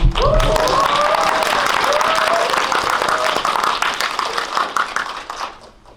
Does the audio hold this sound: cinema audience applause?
yes